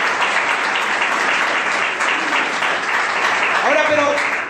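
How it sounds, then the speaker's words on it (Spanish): A church congregation applauds together in a dense, sustained wash of clapping with voices mixed in, steady and loud throughout, with a raised voice or cheer rising near the end. "Dele fuerte el aplauso al Rey de Reyes."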